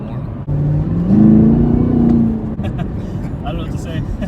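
A 2019 Chevrolet Camaro ZL1's engine rises in pitch at light, quarter throttle, swelling into a steady growl with low-end rumble, then easing off as the car accelerates, with a voice talking over it.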